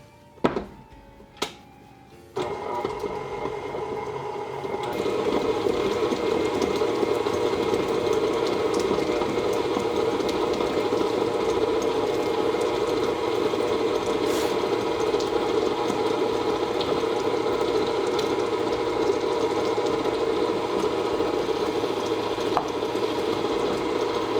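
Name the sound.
electric mixer mixing butter and margarine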